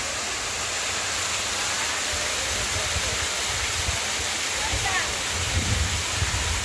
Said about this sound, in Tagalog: napakasarap pakinggan ng lagaslas ng tubig